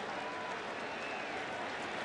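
Steady crowd applause and clapping at a 1992 ALCS playoff baseball game between the Blue Jays and Athletics in Oakland, a continuous dense wash of hands with no breaks.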